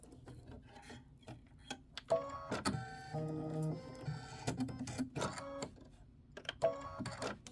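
A Kimberbell embroidery machine stitches a design, its needle pounding in fast, steady bursts with buzzing runs and brief pauses, moderately close with no voices.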